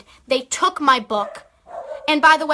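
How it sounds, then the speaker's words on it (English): A dog barks in the background of an indoor setting, a few sharp yips breaking through while a person keeps talking over them. "sorry about my dog"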